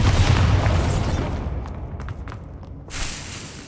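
A Bombarda blasting spell goes off in Hogwarts Legacy, a loud booming explosion that rolls and decays over a few seconds, with a smaller thump near the end.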